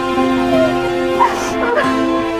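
A dog makes short whimpering yips and small barks in a few brief bursts, heard over a sustained tonal music bed.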